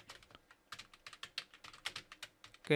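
Rapid, uneven keystrokes clatter on a computer keyboard while code is typed, crisp close-up clicks in short bursts with small pauses, ending on a louder thump, no voices.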